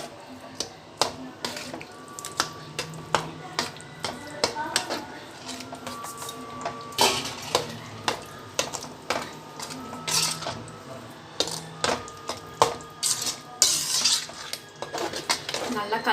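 A spoon stirs mustard and fenugreek powder in a metal pan, making irregular scraping strokes and sharp clinks against the pan close by, with faint background noise throughout.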